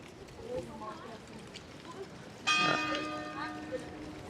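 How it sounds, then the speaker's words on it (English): Church bells ring out in the old Medina of Essaouira, Morocco, near a clock tower, a sudden bright peal with long ringing overtones that fades slowly over faint street ambience. "I'm not sure if that's where the church bells were"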